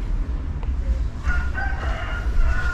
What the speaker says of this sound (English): listen to the chickens